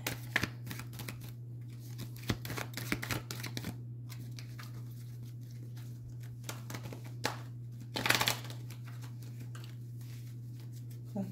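Tarot cards are shuffled in quick bursts of papery riffling and soft taps, close and fairly quiet over a constant low hum, with brief pauses between rounds.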